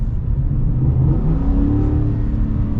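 A Ford F-150 pickup truck with a 5.0 V8 accelerates, a deep, steady engine rumble that builds slightly and holds close and loud throughout, with no talking.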